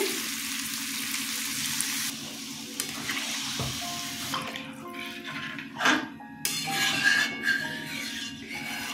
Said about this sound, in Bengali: আলুগুলো কষানো হয়ে গেছে, জল দিয়ে দিচ্ছি।